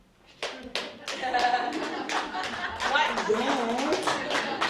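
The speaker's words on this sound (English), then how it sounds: "feel free to clap and whatever you want" Concert audience at a Saskatoon Food Bank Christmas fundraiser at The Refinery claps along in a steady rhythm that grows fuller and louder, with brief talk and chatter mixed in.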